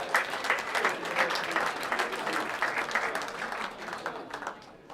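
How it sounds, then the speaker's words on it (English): Guests at a charity ball at Lords clap for a chef, a dense, steady round of applause filling the room for several seconds before thinning slightly toward the end. "Round of applause, please,"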